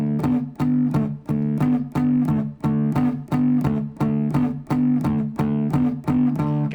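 Electric guitar playing a song's verse riff as slightly palm-muted root-fifth power chords, a steady repeating pattern of short, chunky notes, close and loud with no talk.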